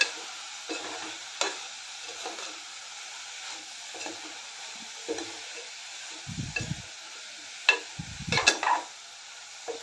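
Shredded cabbage is stirred in a pressure cooker pan, with soft scraping strokes and occasional utensil clinks over a faint steady sizzle, close and fairly quiet, with no talk.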